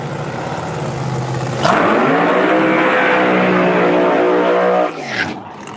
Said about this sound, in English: Russo with a short burnout.